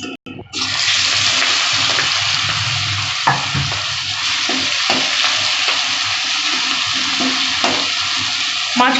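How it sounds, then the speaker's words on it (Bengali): Prawns drop into hot oil in a pan and fry with a loud, continuous close-up sizzle that begins abruptly and holds steady, with occasional crackles. "এবার আমি মাছ কটা ভেজে নিচ্ছি।"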